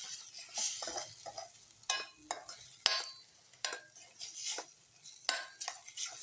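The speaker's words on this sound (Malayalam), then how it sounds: "അപ്പോൾ നമുക്ക് നന്നായിട്ട് ഇളക്കി കൊടുക്കാം." A spoon stirring paneer Afghani masala in a pan, with irregular scraping strokes and soft sizzling, close by and fairly quiet, with no voice.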